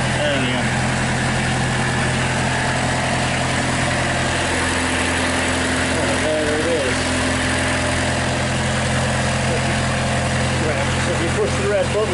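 A narrowboat diesel engine idles steadily with a fast, raised rev, a continuous close mechanical drone with faint talk over it.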